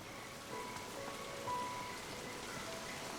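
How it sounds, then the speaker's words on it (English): Heavy rain falls steadily across the Serengeti grassland, a faint, even hiss of drops hitting the ground that holds without a break. "Rain is pouring down the Serengeti."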